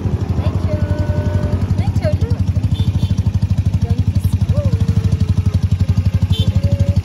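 A motorized tricycle engine runs steadily up close, its rapid rhythmic putter continuous throughout, with voices talking intermittently over it.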